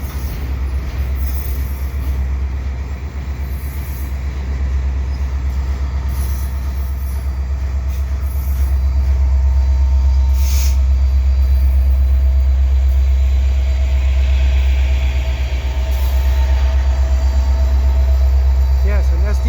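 A CP freight train with SD70ACU locomotives pushing at the rear rolls past at Dorval, a loud, close rumble of engines and wheels with squealing and rising intensity midway, and voices faintly underneath.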